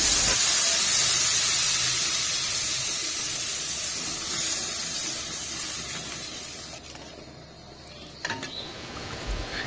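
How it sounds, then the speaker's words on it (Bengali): Water poured onto sizzling spice paste for a snakehead (shol) fish curry gravy sets off a loud, steady broadband hiss. It eases briefly near the end, then flares again with a few sharp spits. "মশলা কষানো হয়ে গেছে, দিচ্ছি ঝোলের জন্য পরিমাণ মতো জল।"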